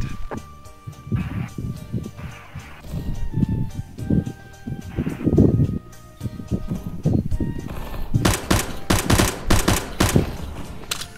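Video-game gunfire crackles in rapid automatic bursts over low, muddy rumbles and thumps, ending in a dense run of sharp, loud shots near the close.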